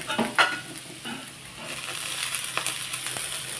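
Dhenki shak greens hit a hot pan and are stirred and fried, giving a steady close sizzle with scraping utensil clicks and a few sharp knocks over about four seconds.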